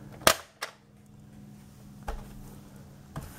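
A Nerf Sonic Fire Barrel Break IX-2 toy blaster fires a dart with one sharp, close snap, followed by a few faint clicks in an otherwise quiet room.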